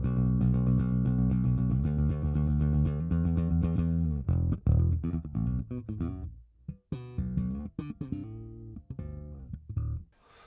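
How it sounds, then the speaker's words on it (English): Bass guitar through a Line 6 HX Stomp on its default preset, a sustained sequence of thick, distorted held notes followed by choppier plucked phrases and short stops, close and alone. "So this is what it sounds like out of the box."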